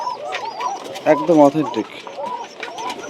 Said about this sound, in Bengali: পাশে দেখতে পাচ্ছেন অরিজিনাল টাইগার বাসিরাজ কোকা কবুতর